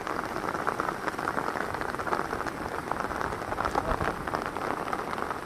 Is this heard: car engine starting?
no